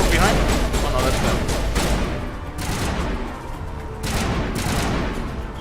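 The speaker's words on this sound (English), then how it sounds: "What the hell am I getting shot from behind?" Sustained gunfire in Mass Effect Legendary Edition rattles in loud bursts with brief gaps, shots landing close and hard, while a voice speaks over the firefight.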